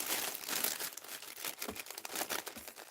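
Paper for a mixed-media art journal being cut and handled, heard as close, dry crinkling and rustling with quick snipping crackles, fairly quiet, with no talk.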